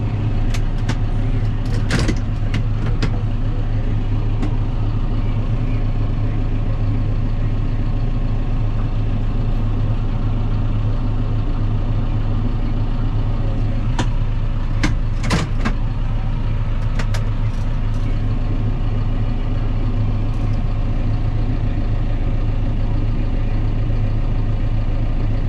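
Tractor engine running at a steady idle, a continuous low rumble with a few sharp metallic clanks over it.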